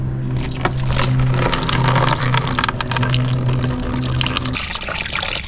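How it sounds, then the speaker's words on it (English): Coolant pouring out of a released hose on a 2010 Audi A3 1.6 TDI, a steady close gushing stream of liquid that runs continuously, with a low hum underneath and no talking. "Release this hose and be prepared for a lot of coolant."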